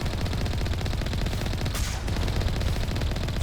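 Rapid continuous gunfire from the Mako vehicle shooting at an incoming enemy dropship in the video game Mass Effect, a dense, loud, unbroken stream of shots with a brief whooshing burst midway.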